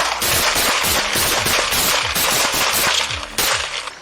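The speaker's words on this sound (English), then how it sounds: "prompting officers to return fire." Rapid gunfire from an officer-involved shooting captured on police body camera, a dense burst of many shots in quick succession, loud and close throughout.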